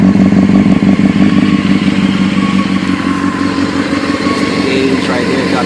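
A motorcycle engine revs loudly and close, a steady low grumbling roar with mechanical clatter that eases slightly toward the end.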